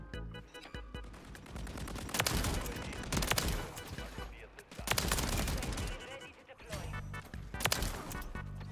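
Shotgun blasts in a Call of Duty match on the Shipment map, loud repeated bursts every second or so amid constant surrounding gunfire and game noise.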